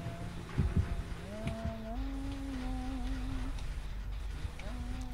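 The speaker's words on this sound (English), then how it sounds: "Oh, I hate that humming." In the Dead by Daylight horror game, the Huntress hums a slow lullaby. The sustained, wavering tune runs in long held notes at moderate volume and breaks off briefly near the end, over a low ambient rumble.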